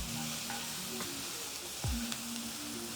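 Onions caramelizing with salt in a HexClad pan give a steady, soft sizzle, with one brief scrape of stirring partway through.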